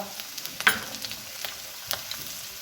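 Ginger paste frying in a pan, a soft continuous sizzle with a few light spoon taps and scrapes, close and quiet, no voice.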